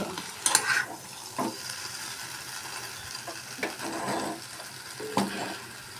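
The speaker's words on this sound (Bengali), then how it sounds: "এগুলো একটুখানি আস্তে আঁচে ধীরে সুস্থে একটুখানি ভালো করে কষিয়ে রান্না করলে খুব ভালো লাগে" Young jackfruit and spices being stir-fried in a pan over low heat, with a spatula scraping and stirring in several distinct strokes over a soft, steady sizzle, close by and with no talk.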